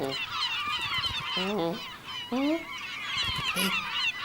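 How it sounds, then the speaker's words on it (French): Several honking, squawking bird calls ring out in short bursts over steady background noise, with no voices. "Des mouettes!"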